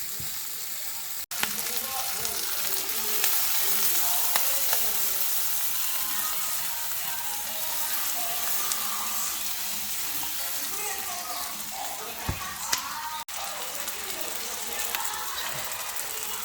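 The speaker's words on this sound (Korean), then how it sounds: "이제 양파가 조금 노릇스름해질 때까지 볶아줄 거예요" Onions sizzle and crackle steadily in a hot pan as they are stir-fried toward golden, with occasional clinks of the utensil against the pan and a continuous frying hiss throughout.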